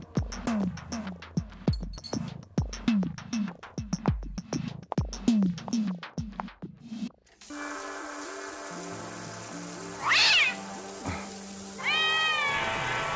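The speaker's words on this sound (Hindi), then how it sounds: "वो तो बिल्ली थी।" A cat meows in a Turkish horror film. A run of heavy, rhythmic thumping pulses gives way to a quieter tonal backdrop, over which two distinct, fairly close meows ring out near the end.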